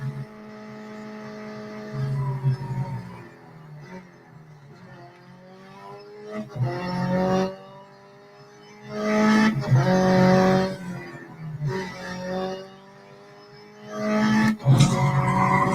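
A Hyundai i20 N Rally1 hybrid rally car in the Real Racing 3 video game strains its engine, its pitch climbing and dropping through repeated surges, with bursts of tire squeal and skidding. No one speaks.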